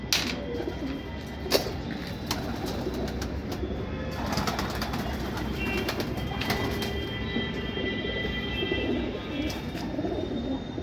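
Kaldama pigeons coo continuously up close, a soft, repeating throaty murmur, with occasional chirps and faint clicks over a steady background hum.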